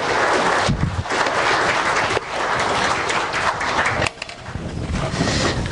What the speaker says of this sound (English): let's give them a round of applause on their accomplishments